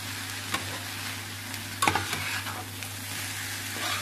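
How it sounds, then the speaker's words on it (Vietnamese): Rice is stir-fried with egg and pickled mustard greens in a pan, giving a steady soft sizzle broken by occasional scraping clicks of the spatula, close and alone without talk. "mình chiên cái cơm chiên này lẫn trứng và dưa"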